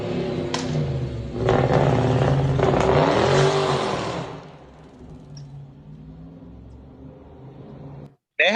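A car engine revs up and pulls away, loud and close for a few seconds before fading into a lower, more distant rumble, followed by a brief cutoff and a sudden loud burst at the end.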